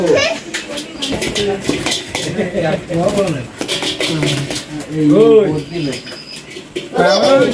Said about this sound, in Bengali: দেখো কবুতর নিয়ে এসেছে তিনটে